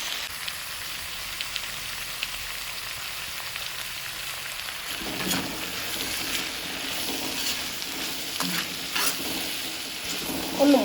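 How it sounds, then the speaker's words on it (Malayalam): Four large sliced onions sauté with salt in a pan for a Manjali biriyani, a steady close sizzle and fry with louder stirring scrapes and clatter in the second half. "4 വലിയ സവാള അരിഞ്ഞ് വെച്ചത് ഒന്ന് ഇതിലിട്ട് വഴറ്റിയെടുക്കണം."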